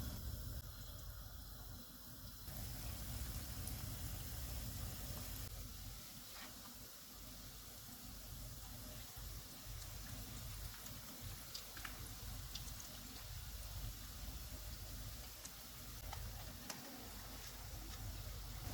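Chicken cheese bread rolls fry in hot oil on a medium flame, giving a steady, dense sizzle and hiss that runs continuously at low level with small crackles throughout.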